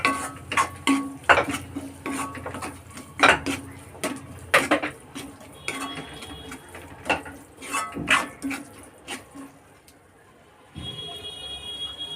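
Paneer bhurji with tomato paste cooks in a pan as a spoon repeatedly scrapes and taps the metal in uneven bursts, with quiet sizzling between the strokes and a steady hum near the end.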